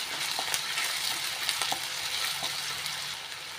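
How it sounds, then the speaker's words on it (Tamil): Ginger and green chilies sautéing in hot oil for a citron pickle, giving a steady close sizzle with occasional stirring clicks and scrapes throughout. "இந்த எண்ணெயில் இஞ்சி மிளகாவையும் கொஞ்சம் வதக்கி விட்டுக்கோங்க."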